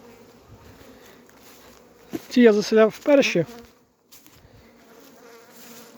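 Steady honeybee buzzing hums throughout at newly stocked hives, with someone speaking briefly in Ukrainian over it midway.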